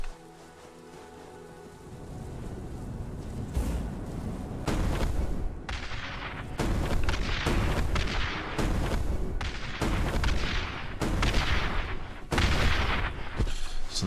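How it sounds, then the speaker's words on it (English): A magic staff projectile in Citadel: Forged With Fire explodes on impact as a run of loud, booming bursts over a steady roaring bed, each blast landing about a second apart, close and with no talking. "when it hits ground it explodes, or when it hits something it explodes"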